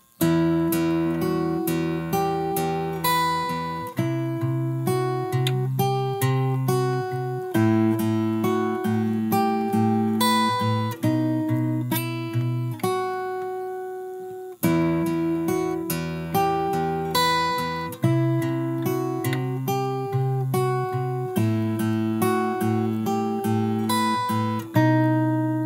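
Fingerpicked guitar plays a song intro, with arpeggiated chords plucked note by note in a steady, moderate rhythm, close and clear, with a brief pause midway before the pattern repeats.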